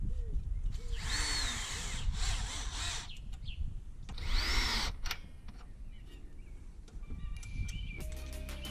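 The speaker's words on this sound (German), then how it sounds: "sie lassen sich mit dem Akkuschrauber schön fest anziehen" Cordless screwdriver driving down stainless steel chimney clamps: two loud whirring bursts of drilling, each a second or so long, with short clicks and taps between them and a quieter stretch after.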